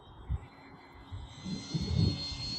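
An FMS Ranger 1220 tricycle-gear RC plane whines overhead, its electric motor buzzing steadily and swelling louder as it passes, with no voices.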